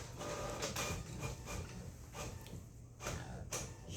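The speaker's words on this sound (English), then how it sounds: "The printer's just gonna keep going, right?" An office printer runs with a mechanical whir and a series of sharp clacks and sliding strokes roughly every half second as paper feeds through, fairly close and moderate in level, with no voices.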